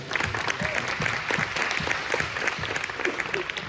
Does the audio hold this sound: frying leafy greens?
no